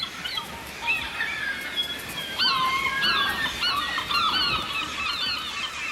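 Gulls and penguins call on the Patagonian shore, a busy series of honking, squawking cries overlapping near and loud over a steady background hiss.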